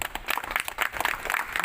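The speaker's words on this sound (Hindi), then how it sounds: "तालियां।" An audience claps at a Republic Day celebration held by a society of former AMU students, with steady, moderately loud applause in a dense run of overlapping claps.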